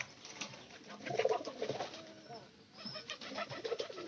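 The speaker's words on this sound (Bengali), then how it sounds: "আমার সবগুলা কবুতরের মনে করেন যে ডাক অরিজিনাল একদম খাঁটি" Domestic pigeons in a loft coo in soft, repeated bursts at moderate distance, with the cooing swelling twice over a faint steady background and no talking.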